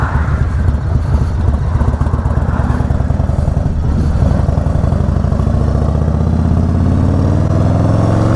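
A Harley-Davidson motorcycle engine runs steadily and loud throughout, a dense low rumble with throttle swells while riding, heard alone with no talk.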